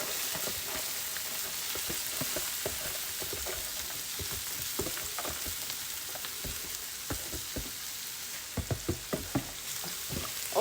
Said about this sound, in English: Yeah, so now I'm going to put in my rice.